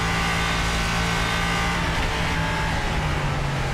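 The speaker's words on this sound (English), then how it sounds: "Just listen to those cars work their way around the circuit." LMP3 prototype race cars lapping the Misano circuit during a four-hour endurance race, a loud, continuous engine roar that fills the whole stretch with little variation.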